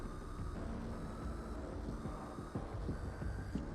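Low mechanical whirring and throbbing hum from a Dead by Daylight video game chase theme layer, steady and faint with a soft pulsing undertone, no talk.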